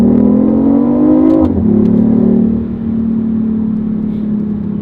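BMW i8 hybrid supercar engine revving hard while driving, a loud steady drone that rises in pitch, drops sharply as the revs fall, then settles into a sustained lower hum.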